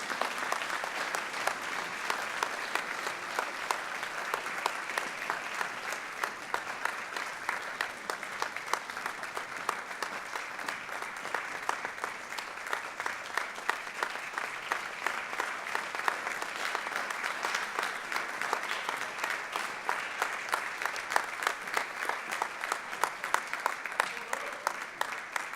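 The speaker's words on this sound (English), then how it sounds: "You can clap." Audience applause fills a National Honor Society induction ceremony, a long, steady, dense wash of many hands clapping at an even level from a moderate distance, with no voices rising above it.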